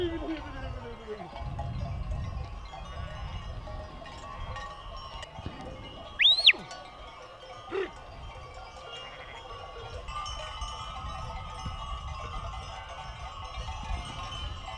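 A flock of sheep with bells grazes outdoors, sparse clinks and bleats rising briefly over a quiet, breezy background, with a low rumble early on.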